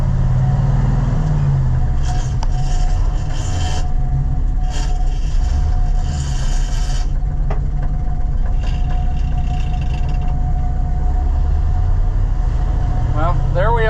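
A Ford L-Series truck engine rumbles loud and steady from inside the cab as gears are shifted, with someone talking over the drone and a brief grinding rise near the end.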